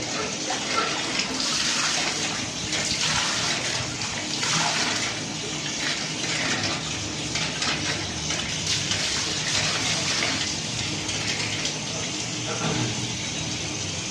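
Water sloshes and splashes steadily inside a clay water pot as its inside is scrubbed and rinsed by hand, a continuous wet swirling with no voices.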